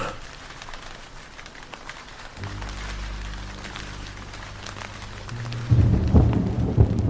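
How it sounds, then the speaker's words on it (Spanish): Steady rain hisses while deep thunder rumbles low and long, swelling into a louder crackling peal near the end. "la tormenta se soltó"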